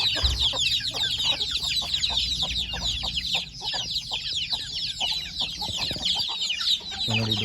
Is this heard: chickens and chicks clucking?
yes